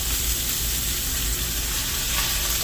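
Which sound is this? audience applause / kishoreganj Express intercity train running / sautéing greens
sautéing greens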